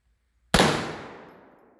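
.450 Bushmaster AR-15 rifle fired outdoors: a single sharp, loud shot breaks the silence and leaves a long, fading echo tail.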